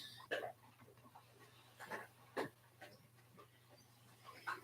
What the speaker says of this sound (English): Who let the dog in?